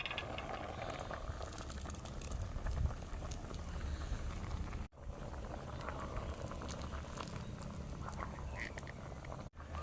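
Prawns simmering in a pot of masala curry, making a steady bubbling and crackling hiss that runs throughout at moderate loudness.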